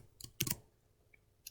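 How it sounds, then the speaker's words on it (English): Typing on a computer keyboard: a few quick clustered key clicks, a louder burst of strokes in the middle, then sparse faint taps, close and alone in a quiet room. "I'm going to keep typing."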